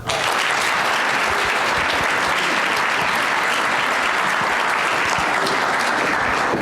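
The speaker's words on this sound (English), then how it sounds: "one last round of applause for all the USD teams" A large audience applauds loudly and continuously, a dense wash of clapping that holds steady from start to finish.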